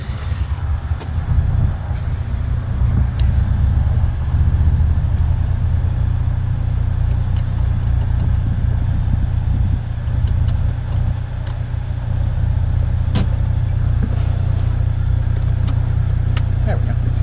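A 2025 CF Moto U10 Pro UTV's engine hums steadily as the vehicle pulls off for a short, slow drive, a continuous low drone with faint rattles and clicks throughout.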